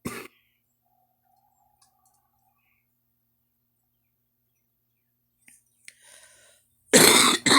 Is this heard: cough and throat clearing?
yes